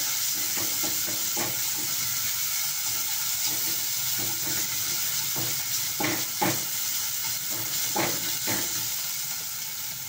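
Onion and ginger sautéing in a pan for chicken, liver and gizzard adobo, a steady close hiss of frying oil broken by occasional spatula scrapes and stirs, with no talk.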